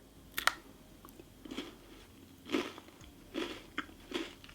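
Crunchy chocolate being bitten and chewed at close range: several faint, crisp crunches spaced irregularly over quiet background, with a couple of sharper bites among softer chewing.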